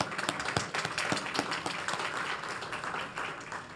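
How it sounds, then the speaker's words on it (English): Attendees at a business workforce forum give themselves a round of applause. Individual claps stand out at first, then blend into a fuller, steady wash of clapping that slowly tapers off. "I'd like to give yourselves a round of applause."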